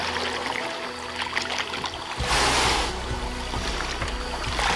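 Steady low engine rumble of boats drawing closer over lapping water, with a rush of louder broadband noise midway.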